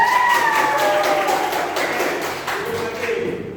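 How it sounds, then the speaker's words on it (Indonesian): Schoolchildren in a classroom applaud together, a busy wash of clapping that fades slightly toward the end, with a voice briefly audible near the start. "Nah, tepuk tangan dulu."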